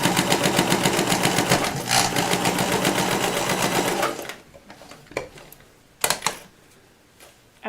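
A sewing machine stitching elastic onto a sculpted animal-feet costume runs in a loud steady rapid whir for about four seconds, then stops, followed by a few quieter clicks and handling noises.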